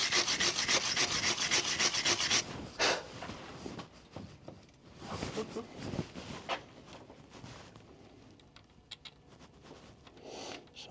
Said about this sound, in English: Alright, so a little wire wheel, a little wire brush here.